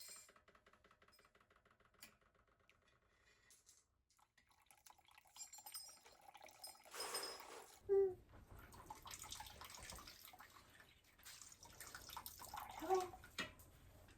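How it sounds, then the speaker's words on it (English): Hot cranberry jelly juice drips and trickles from a strainer, quiet at first, then a fuller liquid patter with a couple of sharper drops near the end, faint and close. "The rest of it I will just let drip until it's cool enough that I can grab it with my hands."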